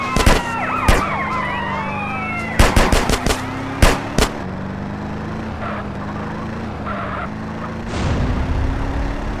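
Bursts of automatic gunfire during a drive-by in GTA San Andreas from a 1986 Chevrolet C20 Suburban Custom Deluxe, sharp rapid volleys in clusters over a wailing police siren and engine rumble.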